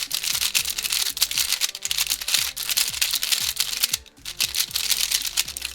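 Loose magnets rattle inside a Cyclone Boys FeiJue speedcube as it is turned, giving a loud, dense run of rapid clicks and clacks in uneven bursts, up close and with no voices.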